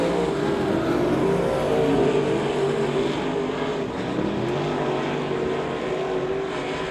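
Race cars run at Devil's Bowl Speedway, their engines blending into a constant, loud roaring drone that holds steady without breaks for the whole stretch.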